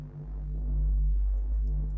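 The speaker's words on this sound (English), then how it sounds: "it kind of adds a nice phasey sound to the bass." A deep Reese bass synth made in Reason 8 drones low and heavy, with a modulated notch filter sweeping through it to give a subtle, slowly shifting phasey throb, heard alone.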